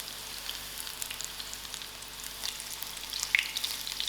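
Chicken kebabs frying in oil in a pan, a steady high crackling sizzle with sharper pops toward the end, close and alone without speech.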